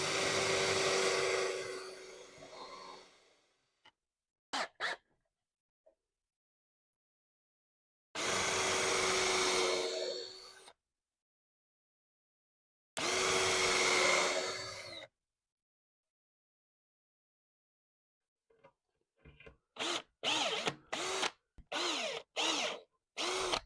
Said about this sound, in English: I'll start on the back side drilling my pilot holes.